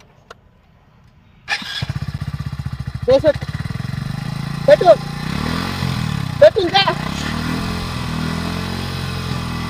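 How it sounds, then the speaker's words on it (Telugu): A motorcycle engine, with a balloon attached to its exhaust silencer, starts abruptly and settles into a loud, steady idle, with a few sharp revs punctuating the run and a voice speaking over it. "ఇప్పుడు బైక్ అయితే స్టార్ట్ చేస్తాడు"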